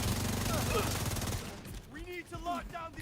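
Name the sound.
turrets shooting gunfire in a video game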